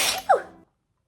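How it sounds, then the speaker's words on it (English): One short, close sneeze bursts out from someone wearing a wig and then cuts off into silence. "I don't know why they make me sneeze"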